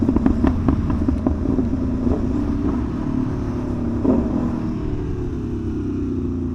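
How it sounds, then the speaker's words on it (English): A motorcycle engine revs hard with sharp pops and crackles early on, then settles into a steady, loud, close rumble that fades slightly as it continues. "Had to give it a little juice for the kids. Woo! I love the way this bike pops."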